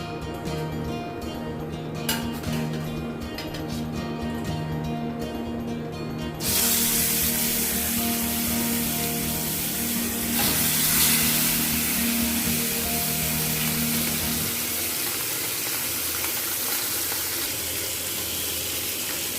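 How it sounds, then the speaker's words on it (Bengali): Fish sizzles in hot mustard oil in a wok, a loud, steady hiss of frying that swells sharply partway through and then settles into a continuous crackling spatter. "তেলটা গরম হয়ে গেছে, এবারে মাছগুলো হালকা করে ভেজে নেব।"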